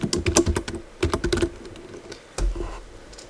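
Fingers type on a computer keyboard in a Word document, with a fast burst of close key clicks, a short pause, then a few more taps and a firmer final keystroke.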